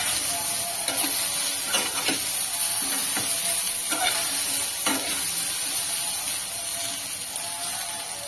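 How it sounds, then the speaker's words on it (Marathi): Okra (bhindi) frying in a pan gives a dense, steady sizzle up close, broken by several distinct scraping strokes of stirring, with no voices. "तर भेंडी फ्राय होते तोपर्यंत आपण कढीची तयारी करूया।"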